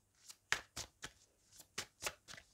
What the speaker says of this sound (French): on va prendre une carte de l'oracle de l'énergie